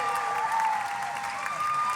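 An audience at the Hoosier Star 2021 talent competition applauds the contestants, steady dense clapping with some crowd noise throughout, loud and close.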